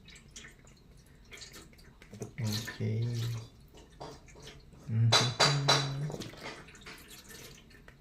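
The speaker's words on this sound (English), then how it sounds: "Pour the milk inside this" Milk pours from a box into a tray in soft liquid splashes and trickles, in two bursts, with a brief spoken word nearby.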